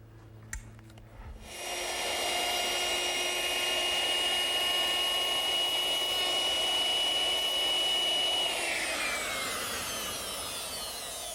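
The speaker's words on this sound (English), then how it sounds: "to round that over, I used a 1/2-inch radius bit" A router fitted with a 1/2-inch radius round-over bit starts after a short pause and whines loudly and steadily as it shapes the edge of a wooden washstand backsplash. Its pitch drops slightly near the end as the cut finishes.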